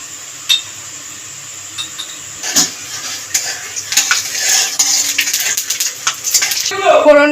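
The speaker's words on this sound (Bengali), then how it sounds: "ফোড়নটাকে ভেজে নেবে।" Whole cloves, cardamom, cinnamon and cumin seeds frying in hot oil in a pan for a vegetarian Bengali potato dish, a steady close sizzle broken by clinks and scrapes of a utensil against the pan.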